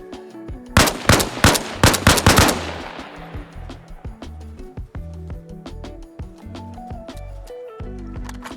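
AK rifle fire aimed at a Humvee in a video game, a fast burst of loud, sharp shots in the first few seconds, then a decaying echo and scattered mechanical clicks and thumps.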